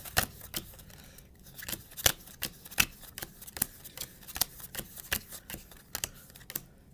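Playing cards are dealt into two piles, each card landing with a crisp, sharp flick in a steady irregular rhythm, close and fairly quiet with no talk.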